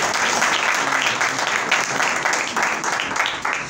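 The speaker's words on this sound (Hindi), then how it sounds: "सो प्लीज मेरी बहन के लिए जोरदार तालियां बजाएं।" Audience applause fills a church Christmas party hall, a dense, steady wash of many hands clapping close and loud for several seconds without pause.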